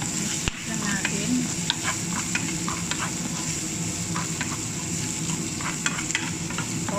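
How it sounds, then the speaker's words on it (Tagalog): Chicken hearts frying in a pan, seasoned with salt and black pepper, a loud steady sizzle with repeated close stirring scrapes throughout. "Mix lang natin."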